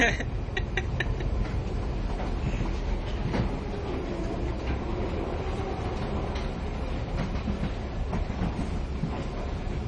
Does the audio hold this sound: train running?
yes